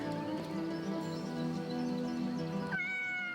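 A cat meows in a long, drawn-out wail that shifts pitch partway through, close and fairly clear over a quiet background, with no voices.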